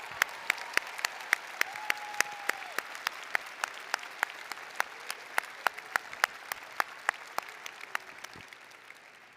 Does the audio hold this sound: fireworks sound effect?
no